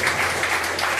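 Congregation clapping together in a church service, a steady dense wash of hand claps that fills the space evenly with no clear breaks, close and moderately loud.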